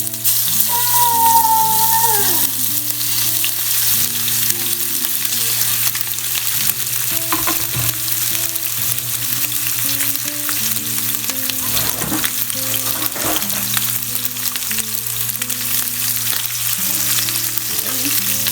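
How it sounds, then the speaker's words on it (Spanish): Chicken breasts frying in hot oil in a small pan on the stove give a steady, loud sizzle that runs unbroken throughout, with occasional scraping and clinks of a utensil against the pan and no speech. "Ya tengo aquí mi sartén, previamente tiene aceite y ya está caliente. Entonces voy a añadirle las pechugas."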